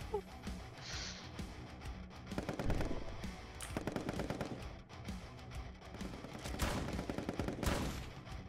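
Sniper weapon gunfire in the party game Pummel Party comes as repeated sharp shots and rapid bursts, fairly even in loudness, with game effects mixed in and no clear talk.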